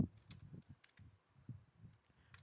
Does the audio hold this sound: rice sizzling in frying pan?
no